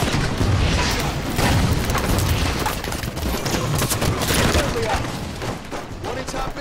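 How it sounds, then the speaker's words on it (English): A grenade blast and sustained gunfire from the video game Halo 5: Guardians in an Arena Team Slayer match on Xbox One, a dense, loud barrage of rattling shots and booms that runs without a break. "Tossing a nade."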